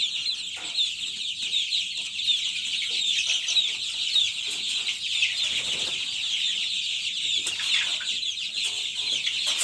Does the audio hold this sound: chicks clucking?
yes